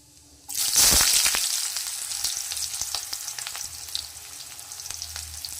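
Chopped onion dropped into hot oil with kalonji, a sudden loud burst of sizzling that settles into a steady frying hiss with light stirring clicks.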